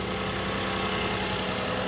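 A Toyota Solara/Camry 3.3L V6 idles steadily and fairly quietly after a manifold gasket repair, a smooth continuous hum with no voices.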